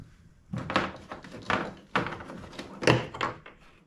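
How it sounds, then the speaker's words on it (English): A Yakattack Black Pak Pro crate dropped into a kayak's tank well, giving a string of hollow plastic thunks and knocks over a few seconds, close and fairly loud, with no talking. "I just pick it up, drop it in the tank well"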